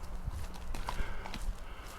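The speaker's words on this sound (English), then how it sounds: "there's a lady on a horse in front" A horse's hooves clip-clop at a walking pace along a countryside lane, a steady run of light knocks at a moderate distance over faint outdoor ambience.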